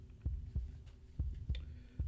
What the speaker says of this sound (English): That heartbeat thump is driving me nuts.